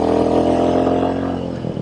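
A Royal Enfield 350 motorcycle engine runs steadily while riding, a continuous throbbing drone close by with no talking.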